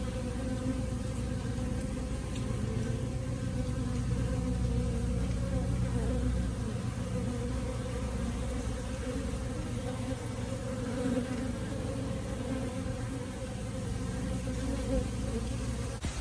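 Japanese honeybees swarm around a hive box, a dense, continuous loud buzzing drone of many wings holding steady throughout with no voices.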